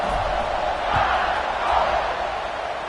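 Stadium crowd in an NCAA college football video game, a steady broadband roar of cheering that holds at an even level throughout, with no clear voices standing out.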